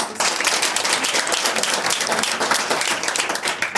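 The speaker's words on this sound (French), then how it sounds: "deuxième applaudissement" A church congregation claps at a pastor's birthday service, brisk clapping from a group with audible individual hand strikes, loud and close, continuing steadily without speech.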